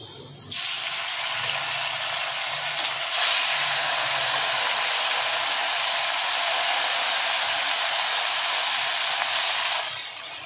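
Salted, turmeric-coated parshe fish hits reused, darkened hot oil with a sudden loud sizzle that holds as a steady, broad hiss for about ten seconds before tapering off, with no talk.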